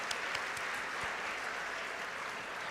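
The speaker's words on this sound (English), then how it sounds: "Big round of applause to them." Applause from a university convocation audience, a steady wash of clapping hands, fairly faint and distant, with no talking over it.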